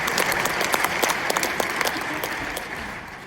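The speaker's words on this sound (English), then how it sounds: "you were supposed to clap" An audience at a university world affairs conference claps in a dense, loud round of applause that starts strong and tapers off a little over about three seconds.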